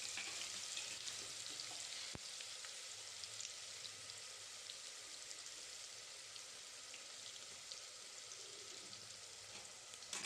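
Quiet, steady frying hiss as a ground green masala paste with cumin and mustard seeds cooks in a pan, with faint crackles and one brief sharp tap near the start.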